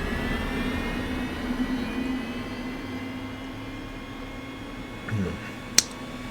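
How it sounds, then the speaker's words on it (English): An Mi-2 helicopter's left engine starts up in a flight simulator game, giving a steady mechanical whine and hum with a faint tonal drone, a short rising swell near the end and one sharp click. "We'll start the left engine first."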